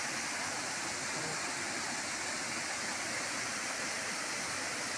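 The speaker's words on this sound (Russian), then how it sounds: "Водопад." A waterfall, Lugnason Falls on Siquijor, roars in a constant, broad rush of falling water, loud and steady throughout with no voices.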